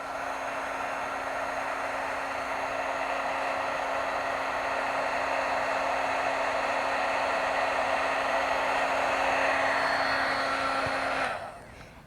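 Heat embossing tool blowing hot air onto stamping powder, a loud, steady close-up whoosh with a faint whine that runs unbroken for about eleven seconds before cutting off abruptly.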